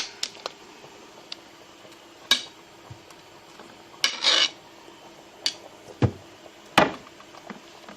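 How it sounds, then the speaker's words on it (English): A mixing bowl scraped and set down on a kitchen counter while making buffalo chicken lasagna, with scattered knocks and clatters of dishes and utensils, a few louder clunks standing alone in a quiet kitchen. "Let's bring this bowl over here so we don't make a mess."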